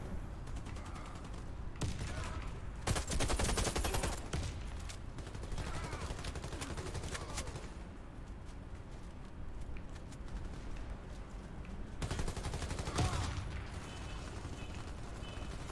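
Rapid bursts of gunfire in the video game Warface on Xbox One, repeated volleys of shots loud and close, with dense noisy action sounds throughout.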